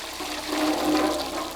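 Water rushing and splashing steadily while coffee beans are washed in a tub on an organic farm in Ecuador, loud and close with no talking.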